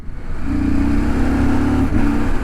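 A CF Moto 800MT touring motorcycle accelerates hard, engine note climbing steadily, then dips briefly for one quick-shifter gear change before pulling again, loud and close.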